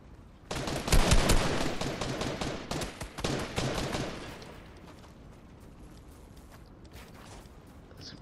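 Rapid bursts of gunfire in the Fortnite battle royale, loud and close for about four seconds in dense volleys, then thinning to scattered distant shots.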